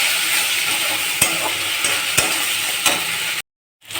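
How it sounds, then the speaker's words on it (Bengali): Mutton being stir-fried with ginger, cumin and chili paste over high heat, a steady loud sizzle with a few sharp scrapes of a spatula against the pan, then a brief cutoff before the frying resumes. "এবার আমি আঁচটাকে বাড়িয়ে দেবো, বাড়িয়ে দিয়ে খানিকটা কষে নেব"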